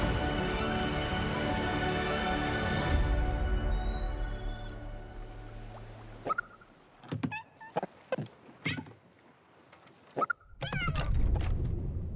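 A cat in an animated film meows in several short, clear calls separated by pauses, close and fairly loud, after a stretch of orchestral music with no talk.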